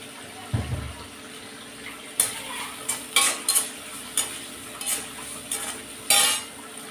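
Onions and tomatoes sauté in a pan with salt while a utensil stirs them, a soft sizzle under a series of sharp scraping clinks against the metal, about eight strokes in an irregular rhythm.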